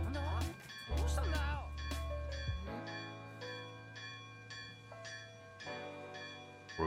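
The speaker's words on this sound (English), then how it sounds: "Someone's ringing the lighthouse." A lighthouse bell rings in a One Piece anime episode, a sustained ringing tone struck at a slow steady rhythm, following a stretch of talk and music at the start.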